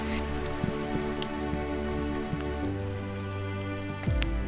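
Rain pattering steadily on surfaces at an off-road campsite with a Toyota 4WD, a continuous close wash of drops with a few sharper hits and a low rumble underneath, no voices.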